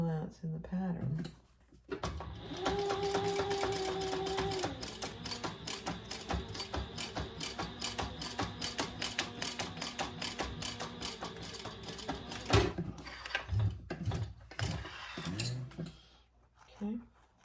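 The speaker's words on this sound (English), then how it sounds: "Now we're going to stitch across that at the seam allowance in the pattern." A sewing machine stitches across the seam allowance of a retro-style fabric sling near a D-ring, a fast, even run of mechanical stitching sustained for about ten seconds, with a voice speaking briefly before and after.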